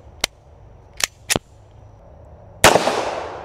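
A .45 ACP 1911 pistol fired at a stack of tires outdoors: three sharp, short cracks spaced irregularly, then a louder fourth shot with a long, fading reverberating tail, no talk.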